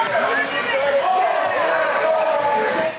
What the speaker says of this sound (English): Parents cheer,